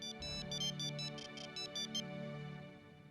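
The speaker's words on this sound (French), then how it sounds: "Mon téléphone sonne." A phone ringtone plays a repeated electronic melody of bright pulsed tones, moderately loud and close, with no talking over it.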